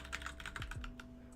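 Rapid keystrokes on a computer keyboard while typing code, a quick burst of close, light clicks that taper off toward the end.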